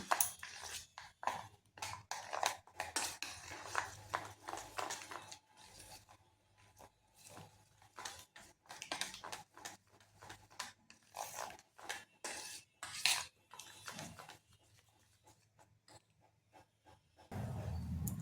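Egg and flour batter with ginger garlic paste and chopped coriander being mixed in a bowl for a snack, a quiet run of rubbing, scraping strokes in irregular rhythm with a few brief sharp clinks.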